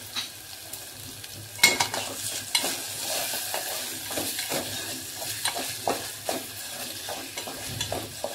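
Grated paneer sizzling softly in hot ghee over a low flame, with a spoon scraping and stirring through the pan in repeated strokes and occasional sharper clinks against the metal.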